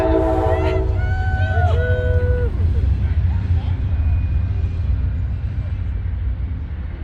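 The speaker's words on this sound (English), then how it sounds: "I'm gonna wait for this train." A passing train sounds its horn in a couple of brief blasts over a steady rumbling roar that fades gradually as it moves away outdoors.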